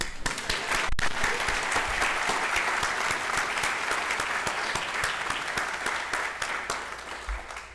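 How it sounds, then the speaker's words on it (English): A meeting audience in a hall breaks into steady, sustained applause that fills the whole stretch at an even level, dense clapping from many hands with no voices over it. "Now you can clap."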